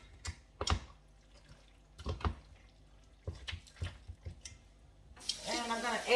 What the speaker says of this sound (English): I'm going to add about this much water to the rest of the bottle